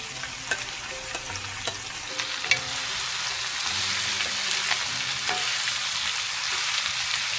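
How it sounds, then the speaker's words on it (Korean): Squid and chopped vegetables stir-frying in plenty of cooking oil in a hot pan, a constant close sizzle with a few spatula knocks early on, building to a denser fry in the second half. "야채가 반 정도만 익을 때까지 볶아주시면 돼요. 이제 여기에 오징어 넣어주세요."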